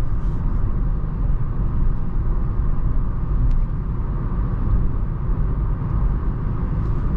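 Interior of a 2021 Renault Taliant with automatic transmission driving with the air conditioning switched off: a steady, moderate low road and engine rumble, with no voices and no sharp events.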